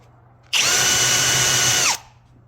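A Craftsman power drill whirs into dark walnut wood in one continuous, loud, close burst of about a second and a half, starting abruptly and winding down at the end, with quiet before and after.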